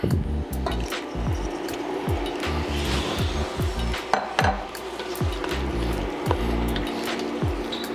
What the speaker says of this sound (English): Now it's time for the shrimp. Now we're gonna add this shrimp.